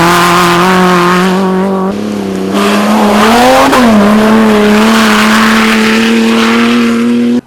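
Buggy racers in the Poursuite de Maluku 2016 roar around a closed 2 km circuit, a loud sustained engine drone holding a steady pitch with a brief dip and rise as a car passes close, ending abruptly; no talk.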